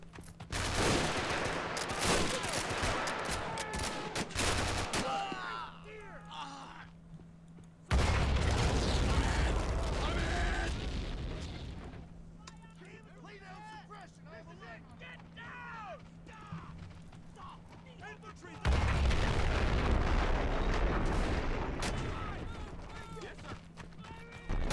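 Video game battle with dense volleys of gunfire and blasts coming in loud bursts, separated by quieter stretches of scattered shots, shouting voices and mechanical clatter.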